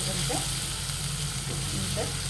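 Asafoetida hits hot oil in a pan for a Nagpur-style Saoji patwadi rassa, giving a steady, fairly loud sizzle close up, with a couple of soft bubbling bursts and a voice talking over it.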